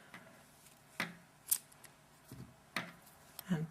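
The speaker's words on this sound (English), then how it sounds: "Now I need to cut my yarn" Scissors snip through crochet yarn while a small green-and-orange pumpkin is being finished, giving a few short, crisp cuts spaced apart at close range in a quiet room.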